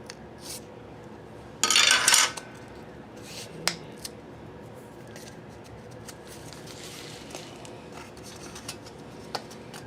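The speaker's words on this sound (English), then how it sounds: "So let's make a notch right here. Cut that off." A notch is cut into a metal motorcycle front motor mount brace, heard as one loud, harsh burst of cutting lasting about half a second, then scattered faint clicks and taps in a quiet workshop.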